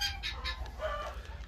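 Guinea fowl hen with newly hatched chicks, giving a few soft, quick clucking calls up close over a low background rumble.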